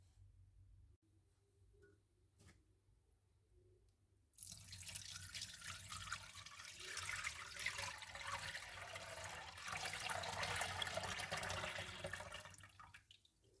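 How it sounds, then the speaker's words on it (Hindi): Sugarcane juice is poured through a sieve, a soft continuous liquid splash and trickle starting after a few quiet seconds and running steadily before tapering off at the end. "सबसे पहले गन्ने के रस को एक छन्नी से छान लेंगे।"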